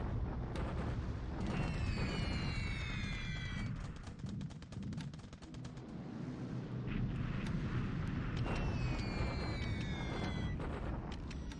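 Explosions from a bombing raid in the strategy game War in the Pacific: Admiral Edition, a dense run of booming blasts and crackling impacts over a low rumble, with whistling descending tones as bombs fall, steady and loud throughout.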